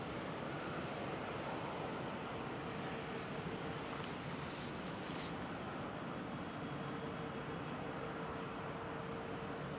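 A low, steady jet rumble from an airliner landing on runway 27 at Amsterdam Schiphol airport, heard from a distance as a continuous broad roar with no talk.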